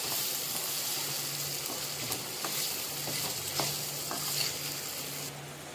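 Cluster beans frying in a pan while being stirred, a steady close sizzle with scattered scraping clicks of the spoon, no talking.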